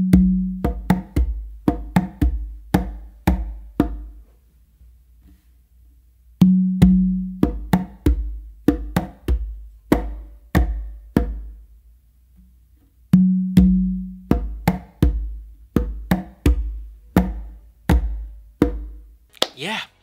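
Conga exercise played on tumba and conga, the dominant hand closing slaps on the tumba while the other hand plays fingertip strokes on the conga, with low bass tones mixed in; steady, close, dry hits in three repeated phrases separated by short pauses.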